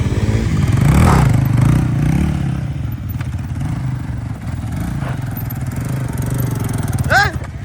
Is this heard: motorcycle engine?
yes